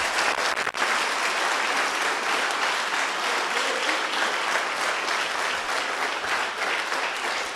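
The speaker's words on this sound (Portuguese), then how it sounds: "Aplauda mais uma vez Jesus." A church congregation at a worship service applauds continuously, a dense, even wash of clapping from many hands filling the room at steady volume throughout.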